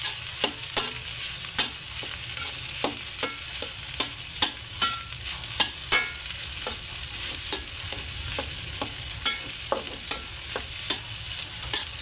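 Chinese fried rice being stir-fried in a hot pan, a steady sizzle broken by frequent sharp scraping and clanking strokes of the spatula at an irregular, brisk rhythm, close and alone.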